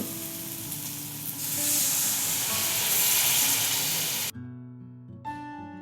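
Mustard paste mixed in water hits a frying masala in a pan, raising a loud hissing sizzle that swells and holds for several seconds before cutting off abruptly, followed by quiet tonal background sound.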